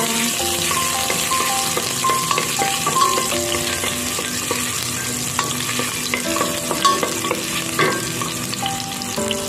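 Sliced ginger fries in hot cooking oil with a loud, continuous sizzle. Stirring and clinking utensil sounds on the pan run through it.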